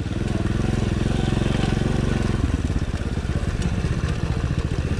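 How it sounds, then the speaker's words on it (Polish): A Racer 110 motorcycle being run in while riding, its engine loud and close with a steady whining drone that seems to come from the top of the engine, its pitch and rhythm shifting partway through. "Troszeczkę coś tak głośno wyje, tylko nie wiem gdzie, ale bardziej tak słuchać jakby u góry silnika"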